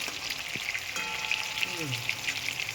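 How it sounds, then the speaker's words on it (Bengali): Prawns for a prawn malai curry fry in hot oil in a pan as they are turned, giving a steady, close sizzle with crackling pops throughout and faint stirring scrapes. "দেখুন লাল লাল করে ভাজা হয়ে যাচ্ছে। উল্টে নিচ্ছি।"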